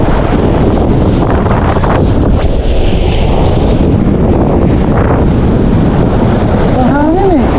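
Strong northeast monsoon wind roars and buffets the microphone continuously while fishing at sea, with waves and water noise underneath and faint talk near the end.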